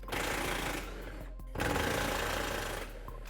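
A power impact tool rattles in two bursts of rapid hammering, loosening Jeep Wrangler bumper bolts with a 3/4 inch socket, close and loud, with a short gap between bursts.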